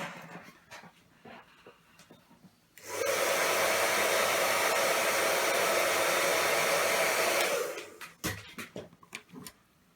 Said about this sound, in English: I'll give it a blast with a hairdryer